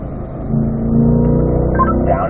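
A Corvette engine accelerating down a race track straight after an upshift into fourth gear, a loud, close, steady rising drone that swells after the first half-second.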